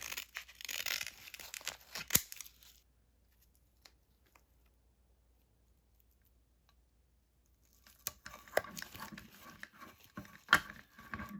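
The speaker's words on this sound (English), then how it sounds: "I'm going to cut it right about there" Scissors cut a strip of material for a guitar pedalboard. Close, quiet snipping and crinkling come at the start, then a long silence, then more rustling cuts near the end.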